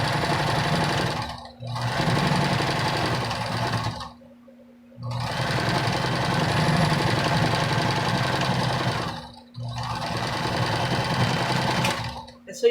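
A sewing machine stitching a fabric face mask runs in three long bursts of rapid mechanical whirring, separated by short pauses, with someone talking over it.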